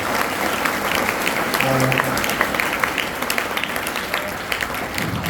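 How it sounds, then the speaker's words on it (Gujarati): Thunderous applause from a school gathering at a Praveshotsav enrollment celebration welcoming an honorary guest, a dense continuous roar of many hands clapping with voices mixed underneath throughout. "આપણે તાળીઓના ગડગડાટથી સ્વાગત કરીએ"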